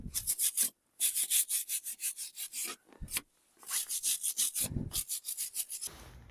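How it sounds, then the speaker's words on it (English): Wire brush scrubbing rust off Koni shock absorbers on a car's front suspension, fast rhythmic rasping strokes in close bursts with brief pauses between, loud and alone. "I'm going to give it a bit of a wire brush in."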